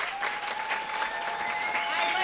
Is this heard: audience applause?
yes